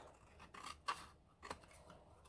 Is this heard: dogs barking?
no